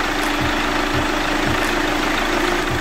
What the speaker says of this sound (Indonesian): Nah, oke teman-teman, kita biarkan dulu mesinnya nyala 10-15 menit.